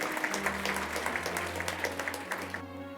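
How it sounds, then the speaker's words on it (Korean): Steady applause from an audience at a law school moot court awards ceremony, continuous clapping at moderate level under a low hum, thinning toward the end. "큰 박수 부탁드립니다."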